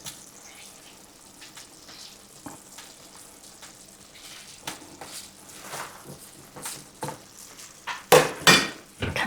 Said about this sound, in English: I'm going to add in my steamed broccoli in.